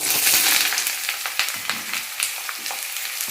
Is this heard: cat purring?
no